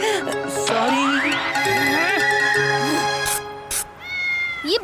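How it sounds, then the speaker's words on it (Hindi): An animated cartoon cat meows several times in drawn-out, rising and falling cries, loud and close, with brief quiet gaps and short bursts of other sound between them. "ये बिल्ली की आवाज कहाँ से आ रही है?"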